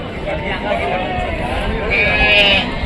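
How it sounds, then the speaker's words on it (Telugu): Goats bleating at a crowded goat market, with several wavering bleats close by amid background chatter, and one higher, longer bleat near the end. "పోతులు ఉన్నాయట, మేకలు ఉన్నాయి ఫ్రెండ్స్"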